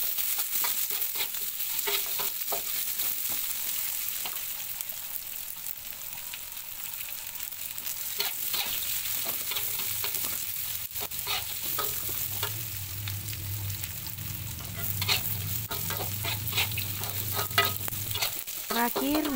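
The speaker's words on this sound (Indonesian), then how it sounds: "masukkan bawang merah, bawang putih. Kemudian ya aduk kembali sampai matang." Chili, shallots and garlic stir-fried in a pan for a home-cooked meal, giving a steady sizzle under repeated scraping and stirring strokes, with the frying growing louder toward the end.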